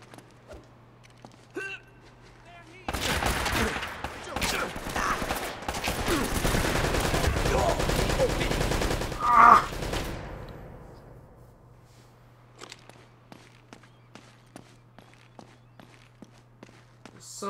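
Sustained turret machine-gun fire from the video game Uncharted erupts after a quiet stretch of faint footsteps, blasting loudly for several seconds with a sharp peak before fading back to scattered steps and small sounds.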